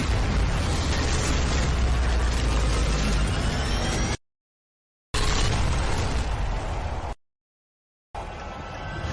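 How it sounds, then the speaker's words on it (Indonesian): A traitor disciple blows himself up in a massive blast, a loud roaring explosion that rumbles on, broken twice by abrupt silent gaps. "Gawat, murid pengkhianat ini akan meledakkan diri."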